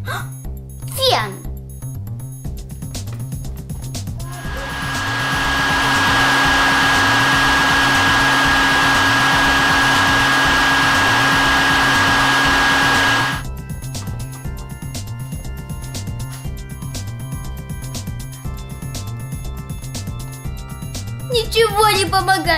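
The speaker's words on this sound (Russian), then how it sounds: "Фен!" A hair dryer whirs loudly for several seconds with a steady high whine, drying a wet doll, then cuts off abruptly; someone talks before and after against a rhythmic backing beat.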